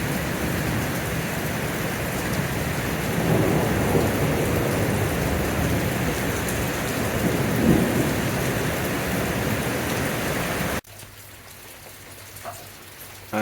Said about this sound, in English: Regular flashes of lightning and rumbles of thunder.